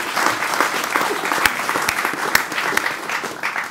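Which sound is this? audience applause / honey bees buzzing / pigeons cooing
audience applause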